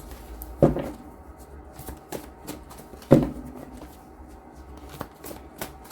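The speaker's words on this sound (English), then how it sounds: "10 cards after 3 shuffles." A deck of tarot cards is shuffled by hand, with two sharp riffling bursts and lighter card rustles and taps between them, close and quiet, with no talking.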